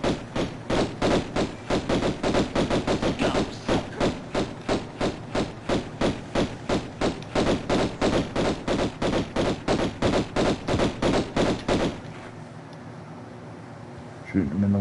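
Rapid pistol fire in Tomb Raider I, with dozens of sharp, evenly spaced shots in a steady rhythm for about twelve seconds before stopping abruptly, leaving a quiet tail.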